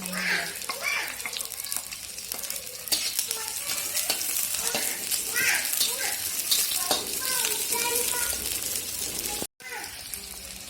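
Garlic and shallots fry in hot oil in a pan, giving a busy, continuous sizzle with crackles and stirring scrapes close up, while a person speaks briefly over it; near the end the sound cuts out for a moment before resuming.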